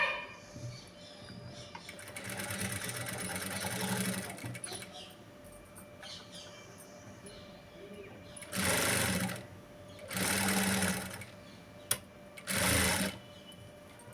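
A sewing machine stitching a blouse seam runs in several bursts, one long steady whir and then three shorter runs, with quieter gaps between them and no voices.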